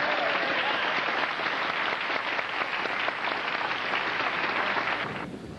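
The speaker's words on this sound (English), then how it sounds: "Let's have a round of applause for Michael Flynn." A meeting audience applauds Michael Flynn after his talk, steady dense clapping filling the room for several seconds before tapering off at the end.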